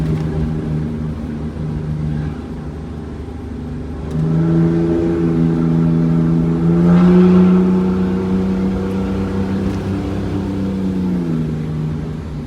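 A Wanderlodge bus with a 6V92TA two-stroke diesel pulls a load under acceleration, its deep drone swelling partway through as turbo boost builds, a loud, steady rising engine note heard from inside the coach.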